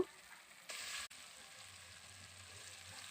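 Spice paste frying in a pan for a bitter gourd, potato and aubergine dish, with a brief loud burst of sizzle as water goes in, then a steady low sizzle and faint stirring scrapes.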